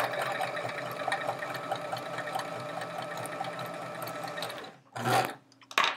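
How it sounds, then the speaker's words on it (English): A sewing machine runs steadily, stitching rows of chevron quilt pieces, its motor whirring continuously for about five seconds before stopping, followed by a couple of short bursts. "just hold them while I sew"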